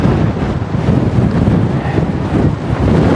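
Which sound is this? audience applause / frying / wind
wind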